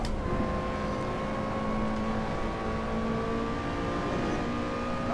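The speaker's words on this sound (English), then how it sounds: "that supercharger is very annoying" Supercharged Lotus Exige 240 engine in the Assetto Corsa racing game at Mugello, a steady droning hum with a high supercharger whine held at a constant pitch, loud and continuous with no talk.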